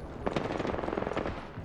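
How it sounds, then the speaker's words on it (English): Rapid automatic gunfire in a battle royale video game, a dense burst of repeated shots sounding fairly close and steady for under two seconds, with no talking over it. "I hear gunfire"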